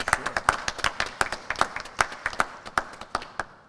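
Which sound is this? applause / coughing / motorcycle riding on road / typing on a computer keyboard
applause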